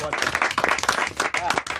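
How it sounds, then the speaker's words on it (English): Audience applause and clapping at a live music talk event with a band, dense overlapping claps mixed with crowd voices and cheering, loud and close throughout. "Can you round of applause for yourselves, please?"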